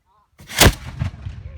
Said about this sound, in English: going to fire a cannonball in front of everyone